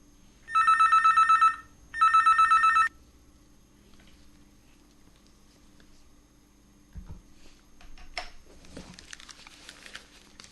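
A telephone rings twice with an incoming call to a radio phone-in show on Akashvani Najibabad. The two loud electronic bursts are followed by quieter clicks and handling noises, with no talk.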